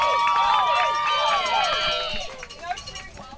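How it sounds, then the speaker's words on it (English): A large crowd of college archers at the 2023 USA Archery Collegiate Target Nationals whoops and cheers in welcome, high shouts over babble that fade out after a couple of seconds. "as you can hear, the archers have been welcomed in by a large crowd of both A&M and Columbia"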